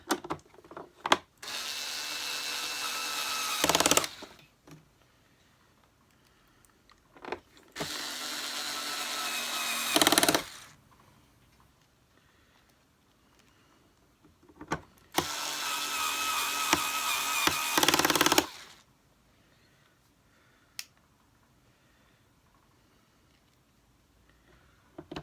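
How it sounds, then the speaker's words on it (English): A power screwdriver drives screws back into the casing of a Hoover Turbopower Junior U1100 upright vacuum in three separate bursts of loud whirring, each lasting a few seconds, with quiet handling clicks between them. "Let me put these screws back in."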